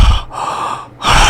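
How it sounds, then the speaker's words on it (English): Heavy mouth breathing, close to the mic and loud, as a long rasping exhale followed by a sharp intake of breath, with no other sound. "You hear his mouth breathing?"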